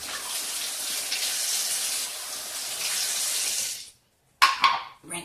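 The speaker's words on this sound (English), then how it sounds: "Rinse my hands off really quick." Water runs steadily from a kitchen tap for about four seconds while hands are rinsed during beet kvass preparation, then cuts off, followed by brief clattering handling sounds.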